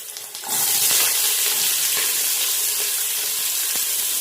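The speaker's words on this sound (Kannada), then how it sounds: "ಸೊ ಈರುಳ್ಳಿನ ಚೆನ್ನಾಗಿ ಫ್ರೈ ಮಾಡಿ" Sliced onions frying in hot oil with cardamom and green chillies for mutton biryani, a loud steady sizzle that starts abruptly after a brief quiet moment, with occasional scraping stirs in the pan.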